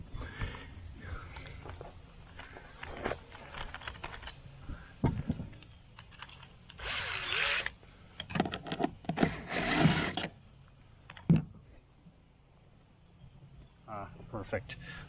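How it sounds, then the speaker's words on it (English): A power drill drives a screw through Tracker boat deck wood into a metal rib beneath, during a Minn Kota Terrova trolling motor install. Two short, loud whirring bursts come amid talking and handling noises. "So that screw I just drilled is right here"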